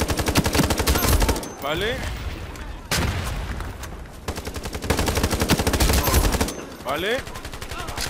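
Rapid automatic gunfire from hip-firing in the free online shooter Ironsight, dense bursts of shots broken by short pauses, loud and close, with someone speaking briefly over it.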